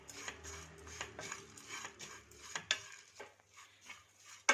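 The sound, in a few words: frying dried coconut (copra) in a pan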